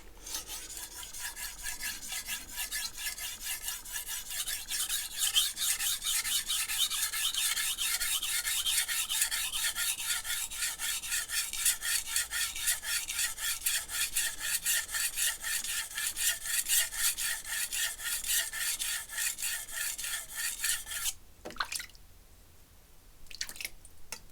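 Steel blade drawn back and forth over sandpaper in steady strokes, a continuous close raspy rubbing that runs for about twenty seconds before stopping, followed by a few short scrapes.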